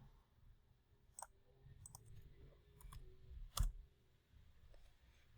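Computer keyboard typing, a handful of sparse, faint clicks and taps at irregular intervals with one louder keystroke, close and quiet.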